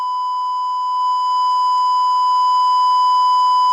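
Censor beep on a broadcast talk show, one long unbroken pure tone that sounds loud and steady throughout and stays clear of any speech.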